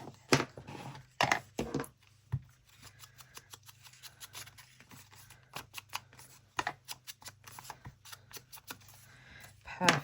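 Scissors snipping ivory-coloured craft paper in a papercraft session, a run of sharp, close clicks and crisp cuts in irregular bursts, with light handling noise between.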